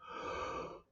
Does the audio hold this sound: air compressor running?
no